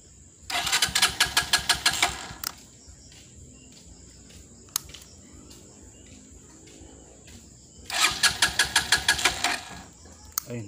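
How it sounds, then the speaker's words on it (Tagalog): Motorstar Cafe 150 motorcycle engine cranking in two separate bursts of rapid, rhythmic pulses, each about two seconds long, close and fairly loud, with a quiet stretch between them where faint insect chirps are heard. "medyo andarin natin yung makina para makakarga."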